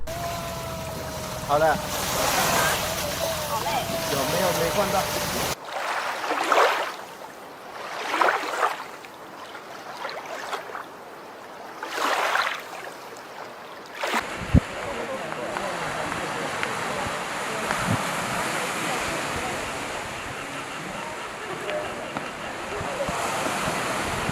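Night-time ocean waves in the South China Sea wash and surge in steady broadband rushes, interrupted by a quieter stretch of separate swells before the surf returns. Wind noise hits the microphone and a voice speaks over the sound.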